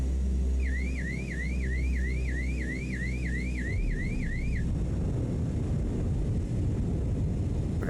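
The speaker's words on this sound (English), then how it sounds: "Here comes the alarm." A warbling cockpit alarm sounds in a CL-415 amphibious water bomber in Microsoft Flight Simulator 2024 during a water landing. The rapid rising-and-falling tone repeats for about four seconds over the engine drone, then stops as the engine noise swells.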